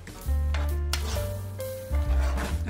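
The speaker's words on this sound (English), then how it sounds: "Now you're gonna stir this and mix it in well." A spoon stirs thick beef stew stroganoff with cream of mushroom soup in a pot, producing close, low scraping and rubbing strokes with a soft sizzle, several sweeps in a row without talk.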